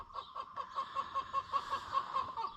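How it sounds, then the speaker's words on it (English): Chickens cluck in a steady stream of short, repeated calls with a regular, bouncing rhythm, moderately close in an outdoor farm setting during tractor repair work, with no voices in the foreground. "Okay, you chickens, enough."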